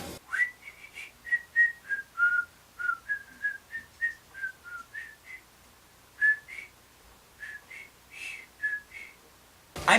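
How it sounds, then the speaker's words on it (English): A lone whistler carries a catchy melodic tune, a series of clear, bright notes in short phrases with brief pauses between them, close and clean with no talk. "There's this assassin character who is constantly whistling this tune basically every time you see him"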